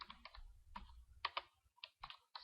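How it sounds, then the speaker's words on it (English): Fingers type on a computer keyboard while entering text into an Excel 2013 spreadsheet, producing a close, quiet series of uneven keystroke clicks with short pauses and no talking. "A2, we're going to type tourism."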